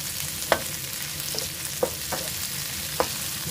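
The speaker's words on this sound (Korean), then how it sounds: "그 다음에 오징어까지는 센 불에 볶아주는 겁니다" Squid stir-fries over high heat in a wok with a steady sizzle, and four or five sharp utensil clacks strike the pan at irregular intervals.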